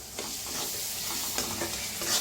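Curd cream roasting in a pan, a dense close sizzle and crackle with soft stirring scrapes throughout.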